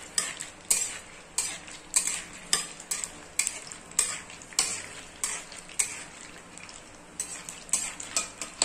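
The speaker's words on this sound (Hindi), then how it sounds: "अब हम इसके अंदर डालने जा रहे हैं मूंगफली, अब हम इसको स्टिर करेंगे" Raw peanuts frying in oil in a kadhai, stirred with a spatula in regular scraping strokes roughly every half second over a steady close sizzle.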